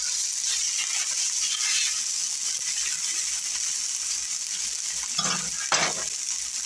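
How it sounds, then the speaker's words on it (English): Food frying in bacon grease in a pan until golden brown makes a continuous close sizzle, with a couple of faint scrapes or clinks near the end and no talking. "I'm just going to cook that till it gets golden brown on both sides"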